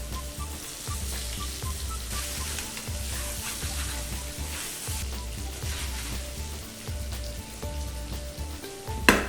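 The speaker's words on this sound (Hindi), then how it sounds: "हरी मिर्चें 2 से 3 हरी मिर्चें, और ये जो केला हमने काटा है ये डाल देते हैं" Cut raw banana with cumin seeds and two or three green chillies frying in hot oil for jeera kela, a loud continuous close sizzle with a rhythmic stirring pulse, no voices.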